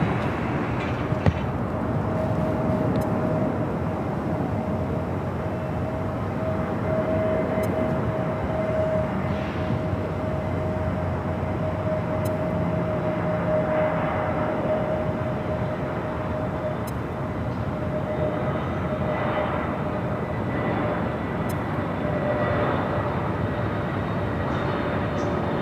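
A Frontier airliner flying near LAX in Los Angeles, heard as a steady, loud, broad rumble of jet engine noise with a faint whine that continues for the whole stretch.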